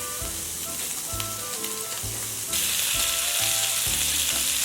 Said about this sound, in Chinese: 锅内不用放油，放入五花肉煎制。